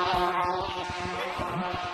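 Bees buzzing around a beehive in Gorilla Tag, a steady, close, droning insect buzz with a tonal hum and a quick rhythmic low pulsing underneath.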